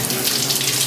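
Lukewarm tap water runs steadily into a sink while a dog is being washed, a continuous close splashing hiss with no pauses.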